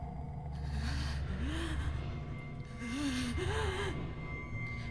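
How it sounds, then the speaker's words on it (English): Ragged, pained breathing in the horror game Accidentally Killed Everyone: slow gasping inhales and strained, wavering exhales repeat several times, close and fairly loud over a low ambient hum. "I hear what sounds like pained breathing"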